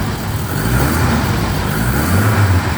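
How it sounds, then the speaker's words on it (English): A 1979 Lotus Esprit engine runs up close with a steady, loud rumble that rises slightly near the end as the throttle is touched, with no talking. "Give her a little touch on the throttle, Jack."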